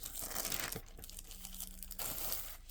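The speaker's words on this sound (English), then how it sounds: "Others would have this plastic." A plastic laserdisc sleeve crinkles and rustles up close in quiet, brittle bursts, pausing briefly in the middle before crackling again.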